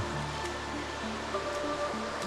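Small multi-level waterfalls spill between rimstone pools deep inside a cave, a steady close rush of falling water with an even hiss and low roar, no voices.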